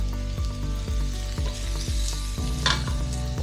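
Onions sizzle and fry in a hot pan for leftover-rice fried rice, a steady loud crackle with a repeated rhythmic stirring or scraping beat throughout.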